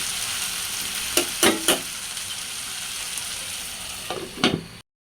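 Long beans sautéing in a pan for a silver carp curry with potatoes: a soft steady sizzle with a few sharp scraping clinks of a spatula against the pan, alone and close.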